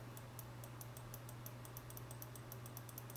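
Rapid, regular mouse clicks sound while painting in Substance Painter, a fast, even tapping of small sharp clicks over a steady low electrical hum.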